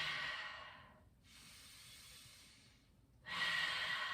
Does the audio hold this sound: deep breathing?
yes